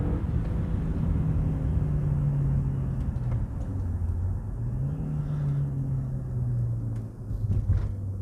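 An Audi TT MK1 pulls hard in second gear, its engine note climbing and dipping in a steady, close, rumbling drone of acceleration heard from inside the car, with no talking.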